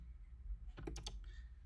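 A few quick keystrokes on a computer keyboard while typing code, a short faint cluster of clicks against low background hum.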